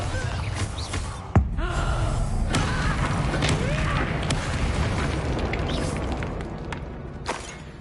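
A Bombarda explosion spell cast in Hogwarts Legacy, a sharp blast near the start that fades into a long rumbling wash of game effects and ambient noise, with a smaller burst near the end.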